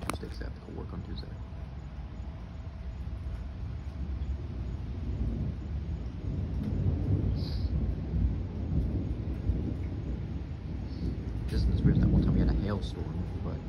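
A big electrical thunderstorm: low rolling rumbles of thunder swell and fade over steady rain and wind noise, growing louder toward the end.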